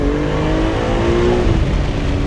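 A single-turbo BMW M4 CS engine pulls hard under acceleration, a loud, close, steady drone whose pitch climbs smoothly over a couple of seconds.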